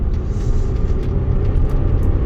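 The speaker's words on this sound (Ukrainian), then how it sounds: "Спробуємо ще раз розгін від нуля до сотні." Audi A6 C6 Avant 2006 with a 3.0 TDI engine, automatic gearbox and quattro drive, accelerating from 0 to 100 km/h, heard from inside as a steady, loud low rumble of engine and road noise with no talking.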